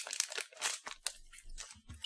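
Chewy cola-flavoured candy pills being chewed close up, soft wet crunching and squishing bites in a quick irregular sequence, quiet and intimate with no talk.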